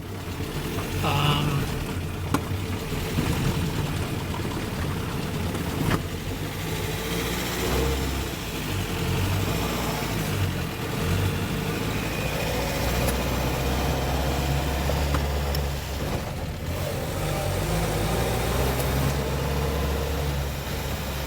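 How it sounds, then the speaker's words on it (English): A 1974 Land Rover 88-inch soft top engine idles steadily for about twenty seconds, a low continuous rumble with slight rises in revs, fairly close, with someone talking over it at times. "This little truck runs and drives just about as good as anyone that I've had, of this type of vehicle."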